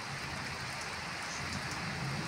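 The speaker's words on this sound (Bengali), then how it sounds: "দেখো কত জোর হচ্ছে বৃষ্টিটা আমাদের এখানে," Heavy rain pours down during a hot-weather downpour, a constant, dense hiss of drops on surfaces, steady and unbroken.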